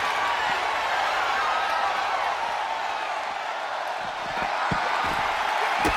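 Arena crowd noise from a WWE 2K25 wrestling video game, a steady roar of cheering with scattered claps and whoops running throughout at a constant loud level.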